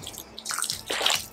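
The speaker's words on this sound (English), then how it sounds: "let's go ahead and stir a lot of water in here because with soil blocking, we want it to be pretty watery" Water being poured into soil blocking mix and stirred in with a tool, giving a short wet sloshing and swishing burst, close and fairly loud, with no talking.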